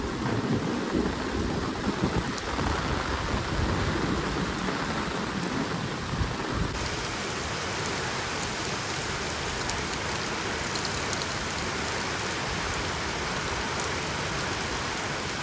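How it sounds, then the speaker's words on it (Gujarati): In Botad village after sowing, heavy rain pours down as a dense, unbroken roar with no voices. It is rougher and louder at first, then settles into an even, steady hiss. "મસ્ત વરસાદ પડે."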